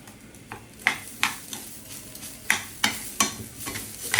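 Rice grains being stirred as they fry in butter in a pan: a soft steady sizzle under a series of sharp spoon scrapes and knocks against the pot, close and without voices.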